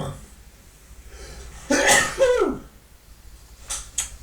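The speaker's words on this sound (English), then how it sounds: "I'm going to sneeze." A single sneeze, close and fairly loud: a sharp burst trailing off into a brief vocal tail, alone against a quiet room, followed a moment later by a couple of faint short sounds.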